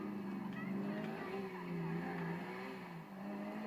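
A car engine drones in a racing video game, with the pitch rising and falling through revs and a faint tire squeal, steady and up front over quiet background talk.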